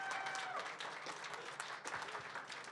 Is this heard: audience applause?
yes